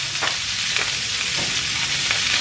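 Steady, close sizzle of a little oil heating in a pan for sautéing pakbet, with faint scrapes of stirring.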